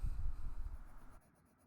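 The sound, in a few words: black colored pencil drawing strokes on paper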